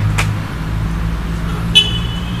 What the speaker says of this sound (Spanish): Ah, por fin ya vino mi carro.